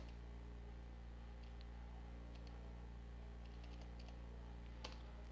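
Quiet typing on a computer keyboard while entering percentages in an MS Office Excel spreadsheet, with scattered soft key clicks and a sharper tap near the end over a steady low hum.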